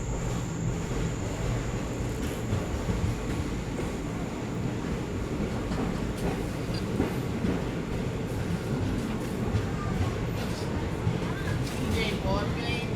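An Indian Railways train departing Nagarsol railway station gives a steady, loud rumble and rattle of rolling carriages, continuous throughout with no pauses.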